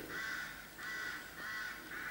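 A crow caws repeatedly near a garden bird table, with four drawn-out harsh calls evenly spaced, faint and somewhat distant against a quiet outdoor background.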